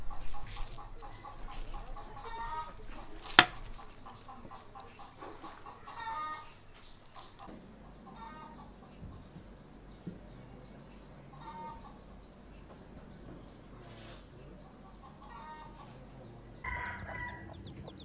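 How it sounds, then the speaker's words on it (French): A neighbouring rooster crows at dawn in a village in northern Laos, several drawn-out calls at moderate distance amid quiet rural background sounds with faint clucking. "on se fait réveiller à l'aube par les cris du coq voisin"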